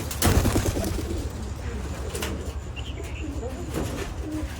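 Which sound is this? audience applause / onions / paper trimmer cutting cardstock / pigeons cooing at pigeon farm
pigeons cooing at pigeon farm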